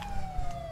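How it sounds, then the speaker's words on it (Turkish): Police siren in a police chase video game, a steady high wailing tone that glides slowly downward through the brief moment, heard alone over a low rumble. "Sirenleri kapatalım arkadaşlar."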